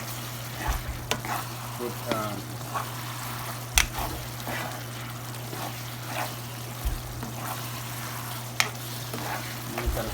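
Food sizzles steadily in a hot pan while a spoon scrapes and stirs it at intervals, with soft clicks of utensil on metal; someone speaks briefly.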